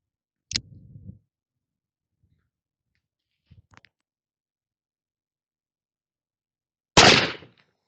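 An engraved Confederate brass revolver fires two sharp reports at a target about 28 yards away, roughly six seconds apart, with a faint click between them, in otherwise quiet surroundings.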